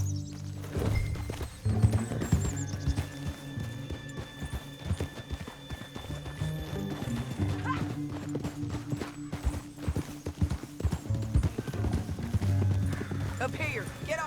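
Horse hooves clip-clopping in the Red Dead Redemption 2 video game, a steady close rhythm of hoofbeats with an occasional whinny, running under background music and game sounds while someone speaks.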